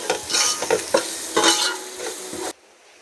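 A spoon stirring and scraping chilli powder and salt through food in a vessel, loud close clatter and swishing for a couple of seconds before it cuts off abruptly into near silence.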